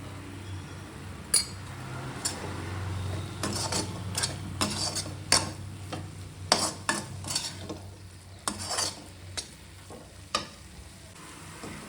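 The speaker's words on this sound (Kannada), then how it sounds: "ಎಣ್ಣೆ ಬಿಟ್ಕೊಳ್ಳೋವರೆಗೂ ಫ್ರೈ ಆಗಲಿ." Vangibath masala fries in oil with a low, continuous sizzle. A spoon stirs and scrapes the pan, making repeated sharp clinks and scrapes at an uneven rhythm, close by.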